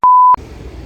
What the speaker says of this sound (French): Et là sur la vidéo il y aura un bip.